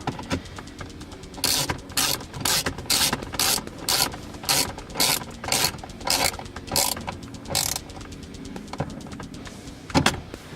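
Bolts on a Corksport shifter bushing in a Mazdaspeed3 being tightened with a ratchet, a steady series of short, close mechanical ratcheting bursts in a regular rhythm with brief pauses between strokes.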